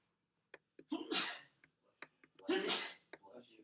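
Two sneezes, close and fairly loud, each a sharp burst with a short breath before it, spaced about a second and a half apart.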